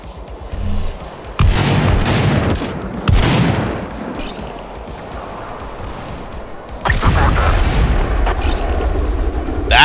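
A land mine detonates in the Tacticool shooter game with heavy booming blasts, close and loud, amid bursts of gunfire and crashing impacts that come in waves.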